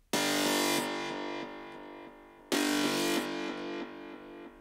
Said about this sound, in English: we have this very aggressive asymmetrical distortion to make it sound gritty and warm